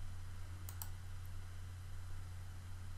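A couple of quick, faint mouse clicks on an on-screen button land close together near the start, over a steady low electrical hum, with no talking.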